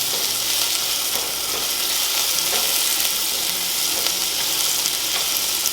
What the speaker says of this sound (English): Now we're just gonna add just a touch of butter. And let this melt down.